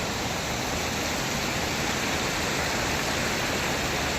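Floodwater from a swollen stream pours over a check dam near Chandrapur, making a loud, steady, unbroken roar of rushing water that fills the scene, close by with no voices.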